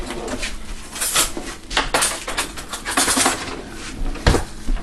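Clatter of dishes and cutlery as a spoon is fetched in a home kitchen, with several sharp clinks and rattles, one louder knock near the end, all close by and without talk.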